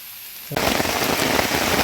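Heavy rain starts suddenly and pours down in a dense, loud, steady roar of drops close by, after a moment of quiet, with no voices.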